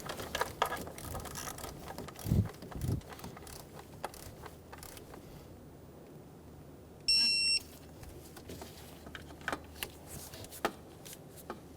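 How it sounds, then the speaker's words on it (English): A torque wrench tightens the oil cooler housing bolts on a 2012–2020 Chevrolet Sonic, with faint ratcheting clicks and metallic taps scattered over quiet room noise and a brief electronic beep. "Torque the oil cooler housing bolts to 18 foot-pounds."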